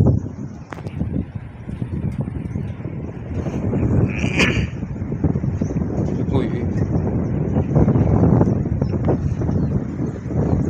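Strong wind roars steadily across the microphone on a long swinging footbridge in Sadanga, Mountain Province, with a low rumbling buffet throughout and a person talking over it.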